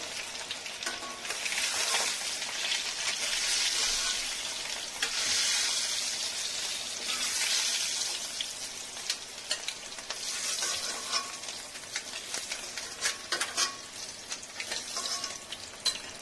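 Fried eggs being lifted out of hot oil in a pan, a loud bubbling sizzle that later thins out, interrupted by clinking spoon scrapes and taps on the vessel toward the end.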